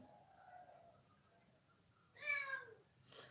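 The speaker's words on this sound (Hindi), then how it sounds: "म्यू म्यू कौन कर रही है साइड में? कैट है, बिल्ली।" A domestic cat meows nearby, one clear drawn-out meow followed by a shorter second call, over a faint background hum and quiet tones.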